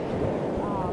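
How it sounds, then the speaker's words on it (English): Ocean waves surging against coastal rocks at the Devils Punchbowl in Newport, Oregon, heard as a steady, broad wash of surf with wind buffeting the microphone throughout. "Listen to those waves."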